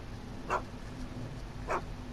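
Dog barking in the video game Back to the Future: The Game, two short separate barks about a second apart over a steady low background hum.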